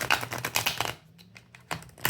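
Brief riffle shuffle of a silver-gilded playing card deck: rapid crisp clicking flutters, a short pause, then another quick burst of card snaps, close and fairly quiet.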